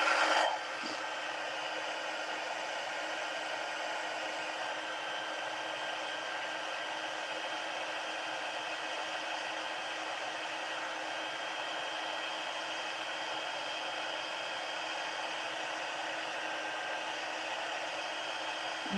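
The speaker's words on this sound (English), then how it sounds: "And then you need your heat tool to heat set it." A heat tool heat-sets embossing powder on a papercraft project, blowing a steady, close whirring rush of air without pause.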